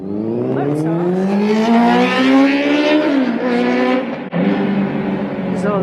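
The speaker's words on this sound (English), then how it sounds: "There's all the motorbikes" Motorbikes on a street in Rome roar past close by, one engine rising in pitch and then falling away as it passes, with further engines following behind.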